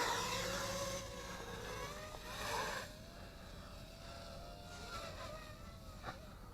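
Motors of an RC Eye Xtreme V2 Vantage brushless FPV sport drone whirring, a high buzzing whine that shifts pitch as the throttle changes, moderately loud and close, with no talking.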